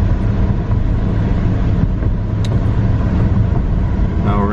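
A BMW N54 engine with inlets, in sport mode, drones steadily at around 2000 RPM under partial throttle, heard from inside the car with a window slightly open; a constant low rumble with no speech.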